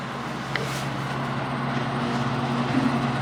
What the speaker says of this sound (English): Here's the jet that everybody's talking about, the insanely loud AC unit.